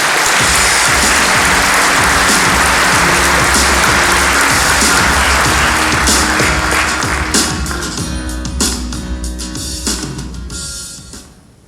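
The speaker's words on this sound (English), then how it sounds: "please, round of applause for Terica" A crowd at a county sports awards ceremony gives an award winner loud, sustained applause that gradually thins and fades toward the end.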